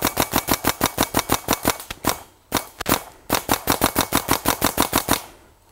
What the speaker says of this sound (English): I want you to see a stream of paint going by Bob